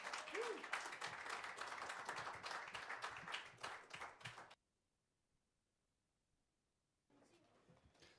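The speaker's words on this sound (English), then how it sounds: "Round of applause." Audience at an open mic night applauding, brisk dense clapping for several seconds that stops abruptly, followed by silence and then clapping resuming.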